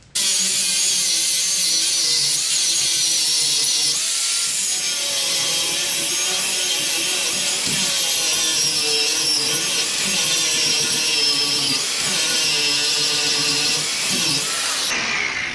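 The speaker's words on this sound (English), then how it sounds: "Just gonna switch to a buffing wheel here." A buffing wheel on a power tool works a ball joint during a 1966 Ford Galaxie 500 drum-to-disc brake conversion, producing a loud, continuous abrasive whir and grind that holds steady for about fifteen seconds before cutting off.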